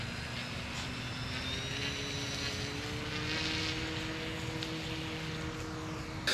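A homemade radio-controlled seaplane taxis across water, its small propeller engine droning steadily at a middle distance with a rising and falling whine and faint water noise underneath.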